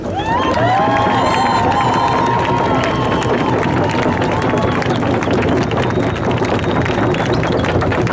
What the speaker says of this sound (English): Let's give another round of applause for the people from this territory and Joel James for his words.